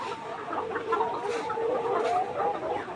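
Layer hens on a poultry farm in hot weather, clucking and murmuring softly in a flock with scattered overlapping calls, fairly faint and steady, with no voices.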